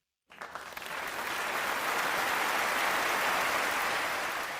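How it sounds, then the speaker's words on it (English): Clapping bursts in from silence and swells into a full, even round of crowd applause, sustained at a moderate distance, greeting a USC women's basketball recruit. "Everybody clap it up."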